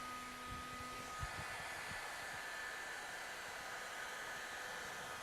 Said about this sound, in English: We heat the vinyl